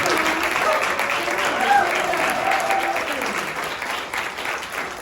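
A school audience applauds students at a senator's Earth Month recognition event, with dense, sustained clapping from a sizable crowd that carries through the whole moment and slowly tapers, mixed with faint voices.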